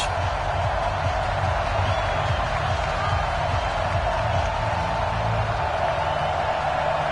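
Stadium crowd noise from an NFL video game on PS4, a Minnesota Vikings versus Carolina Panthers matchup, as a steady, dense roar that holds at an even level throughout.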